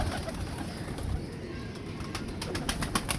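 Pigeons kept in a coop coo softly in low, repeated throaty calls against a steady background hiss, faint and somewhat distant throughout.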